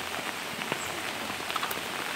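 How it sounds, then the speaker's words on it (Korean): Rain pattering steadily on a parked car during car camping, a soft, even patter of drops on the roof and body, close by with no voices. "비가 오는데"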